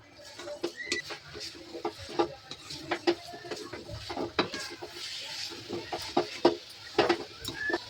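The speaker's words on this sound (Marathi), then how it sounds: "मीडियम, एकदम मीडियम गॅस ठेवलाय आणि हलवते" A thick coconut vadi mixture being stirred in a pan over a medium gas flame, with irregular soft scraping and tapping of the spoon against the pan and a faint sizzle, close and continuous.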